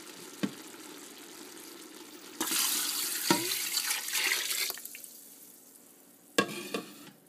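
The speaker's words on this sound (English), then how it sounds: "Now I'm just going to add some water." Water pours into a hot pan of frying pork, setting off a loud hiss and sizzle that gradually fades, with a few sharp clinks of utensils.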